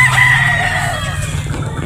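A Boston Roundhead rooster crows once, loud and close, its drawn-out call holding steady before trailing off, with no voices present.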